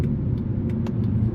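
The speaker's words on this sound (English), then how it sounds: "listen to the sound. The double overhead cam V8 is just a thing of wonder." A 2009 Mercedes C63 AMG with a double overhead cam V8 rumbles steadily while driving, a deep continuous low engine drone heard from inside the car, with faint ticks above it.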